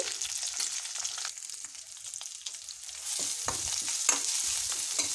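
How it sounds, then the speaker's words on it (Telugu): Curry leaves, cumin and green chilli paste frying in a pan, a steady bright sizzle throughout with scraping stir strokes growing busier toward the end, close and alone. "కరివేపాకు, మనం గ్రైండ్ చేసి పెట్టుకున్న పచ్చిమిర్చి పేస్ట్ కూడా వేసి ఒకసారి బాగా కలుపుకోవాలి"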